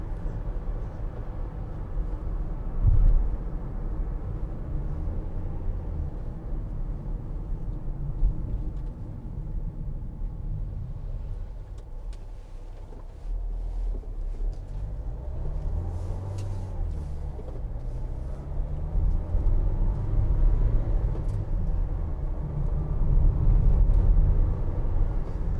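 A 2016 Vauxhall Vivaro 1.6 CDTi ecoFLEX BiTurbo Sportive van driving along a road, with a steady low engine and road rumble that swells and eases with speed throughout.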